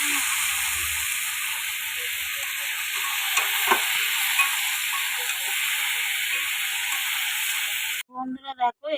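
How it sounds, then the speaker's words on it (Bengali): Food seasoned with turmeric and cumin powder is stirred in a frying pan, giving a steady, close sizzling hiss with faint scraping for several seconds before a voice begins talking at the end. "এবার নাড়াচাড়া করে নেব।"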